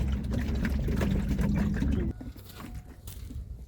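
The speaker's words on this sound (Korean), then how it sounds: "이 바이칼의 물소리가 들리시나요?" Water of Lake Baikal on Olkhon Island, Russia, washes and rushes steadily close by, loud at first and then easing into a softer, broken lapping.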